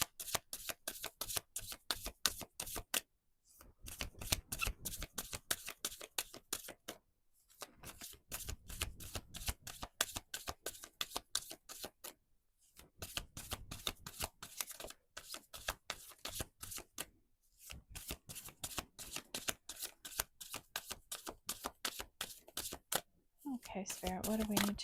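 An Oracle of the 7 Energies card deck is shuffled over and over in quick riffling bursts, each lasting a few seconds and separated by brief pauses, close and crisp, with occasional speech.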